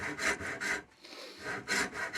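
A hand-forged Mastermyr-style saw cutting a wide curve through wood, with four rhythmic rasping strokes separated by a brief pause, close and fairly loud with no talking.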